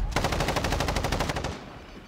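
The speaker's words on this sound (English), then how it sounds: "I'm getting shot." Rapid automatic machine-gun fire in a video game shooter, a loud, dense burst of evenly spaced shots lasting about a second and a half before cutting off into a brief fading tail.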